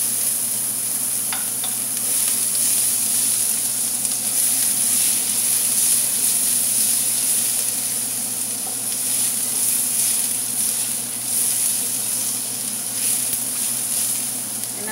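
Garlic frying in a pan at the start of a sweet and sour tofu stir-fry, a steady close sizzle with a bright hiss and occasional stirring clicks, continuous throughout with no talking.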